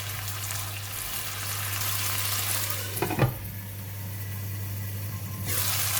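Kailan stems stir-fried with chili for vegetable egg fried rice make a steady, close sizzle with a low hum beneath, and a brief scrape of stirring near the middle before the frying hiss continues.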